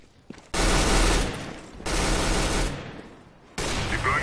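Three long bursts of AK rifle fire in the Counter-Strike: Global Offensive video game, each a loud, dense rapid-fire rattle lasting about a second, separated by short gaps with a few faint clicks.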